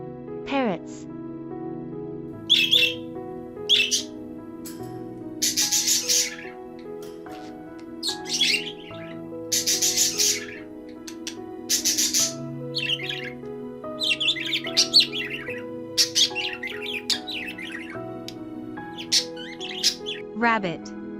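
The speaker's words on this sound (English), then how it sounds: "parrots," Parrots calling with repeated loud squawks and shrill chirps in short bursts, some overlapping, close and clear over a low steady hum throughout.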